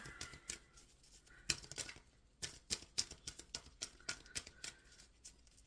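Tarot cards are shuffled in quick, crisp bursts of riffling and flicking, close and fairly quiet, with no voices.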